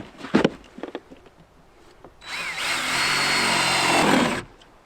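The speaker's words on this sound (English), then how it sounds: "So drill a hole here, put it in place" A power drill with a 1¼ inch hole saw bores a hole for PEX hose, whining steadily for about two seconds after a few knocks and clatters, then winding down.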